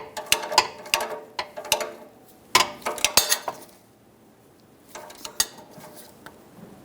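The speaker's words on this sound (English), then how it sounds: "it's more difficult to get a torque wrench in here, so I'm going to tighten these by hand" Exhaust manifold mounting nuts on a 2012-2017 Toyota Camry being tightened by hand with a ratchet, bursts of quick metallic clicking close up, broken by a short quiet pause before more clicks.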